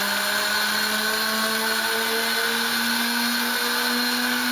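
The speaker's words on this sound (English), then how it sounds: "The Allison V 1710 is a type of aircraft engine that has a 28-liter capacity." An Allison V-1710 V12 liquid-cooled aircraft engine, 28 liters, runs with a steady, loud droning whine whose pitch climbs slowly and evenly throughout.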